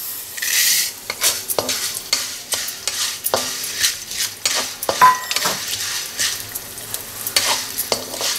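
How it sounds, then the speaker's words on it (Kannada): Fenugreek seeds fry in a little oil for vangibath spice powder, a close sizzle cut by a steady series of sharp metal spoon scrapes and clinks against the pan. "ಈಗ ಮೆಂತ್ಯ ಹಾಕ್ತೀನಿ"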